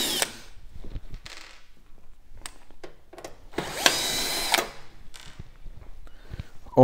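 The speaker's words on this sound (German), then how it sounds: "das heißt die beiden Schrauben müssen auch noch raus" Screws being driven out from the back of an oven's hot-air fan with a power screwdriver: short whirring bursts of the motor, one longer run in the middle, separated by quiet handling clicks, close and moderately loud.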